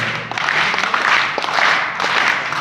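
Audience at a Hindi poetry recital in Delhi claps steadily in a dense, continuous wash of applause that swells and eases slightly, fairly close and loud, with no voices standing out.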